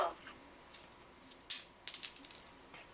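A coin flipped on a game show set spins with a bright, sustained metallic ring, then lands and rattles in two quick bursts midway through, with no talking over it.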